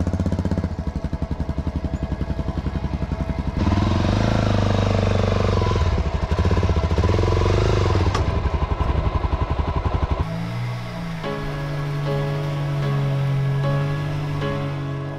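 Motorcycle engine droning steadily on a road trip to L'Anse-Saint-Jean, loud and close with wind rush, shifting pitch partway through as the ride changes speed.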